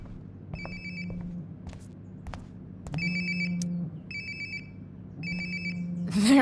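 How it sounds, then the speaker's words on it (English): A mobile phone rings in the video game Life is Strange: Before the Storm, repeating electronic trill bursts over a low ambient hum, then a louder rustle at the end. "Sounds like my phone is definitely nearby."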